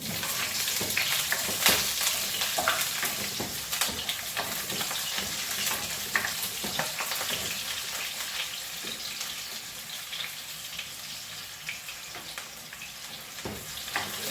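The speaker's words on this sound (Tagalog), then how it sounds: "Papatuloy muna natin po yung sibuyas bago natin ilagay yung sunod yung chicken feet." Onion sautés in a hot pan for chicken feet adobo, a steady close sizzle and crackle with the scrape of stirring running evenly throughout.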